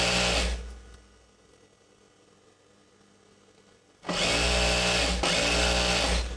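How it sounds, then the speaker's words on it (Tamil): A sewing machine stitches a folded hem on a chudidar pant, running loud and fast in two stretches with a quieter pause between them, its motor whirring steadily. "ஒரு 1 இன்ச்சுக்கு நான் மடித்து ஸ்டிச் பண்ணிக்கிட்டே வரேன்"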